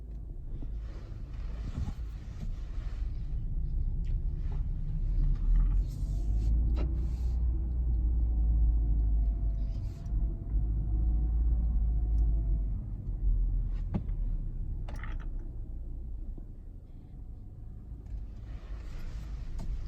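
A 2020 Spark car travels along the road, heard from inside as a steady, close low rumble of engine and tires. The level swells and dips slightly, with occasional light knocks and rattles.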